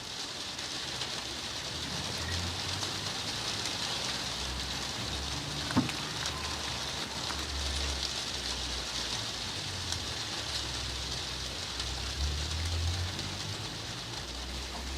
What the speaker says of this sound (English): it starts to rain when it hasn't done for weeks, when you're just filming something